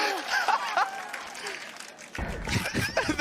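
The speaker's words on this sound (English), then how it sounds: "The crowd went wild for it." A crowd in an esports arena at a Valorant VCT Americas playoff match, Cloud9 against KRÜ Visa, erupts into loud cheering and applause midway, swelling under excited commentators' voices.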